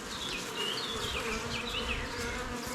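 Honeybees lift off hive frames during a spring honey harvest, a dense close buzzing drone with several individual bees whining past.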